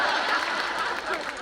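Audience applause at a Hindi comic poetry show, a steady wash of many hands clapping that fills the whole moment at close range without a break.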